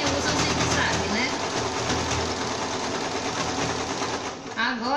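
A sewing machine stitching bias binding onto a small bag, running in a steady fast mechanical whir at close range, with a voice talking over it.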